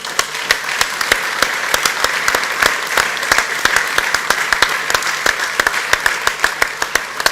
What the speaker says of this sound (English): So shall we give ourselves a big round of applause?